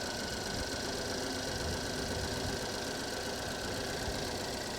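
A 2.4-liter Ecotec car engine runs rough and jumpy, a dense, continuous mechanical hum and clatter that stays steady and moderately close, with no talking over it.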